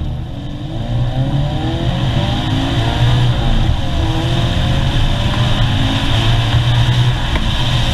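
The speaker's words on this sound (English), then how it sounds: "It is a 2-liter Boxer 4. It is producing 200 horsepower, so not exactly a ton of meat, but it does make a pretty good noise." The 2-liter, 200-horsepower Subaru boxer four in a 2014 Scion FR-S drones loudly and steadily, engine pitch rising and falling as revs change while driving, continuous with no talk over it.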